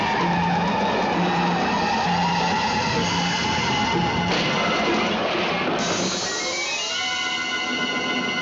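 A car skids to a stop in a late-1960s television drama, tires squealing loudly and continuously for several seconds with a steady tonal screech that falls in pitch toward the end, close and alone without talking.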